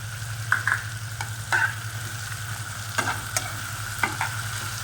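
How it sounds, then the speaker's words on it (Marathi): Tomatoes sauté in a hot pan with a steady frying sizzle, stirred with sharp scraping strokes at irregular intervals, close and loud, no talking. "छान टोमॅटो असा परतू द्यायचा"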